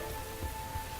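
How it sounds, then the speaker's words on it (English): Steady rain falls in Dyscourse, a constant even hiss of drops with a faint low patter and no voices. "This rain is quickly getting worse."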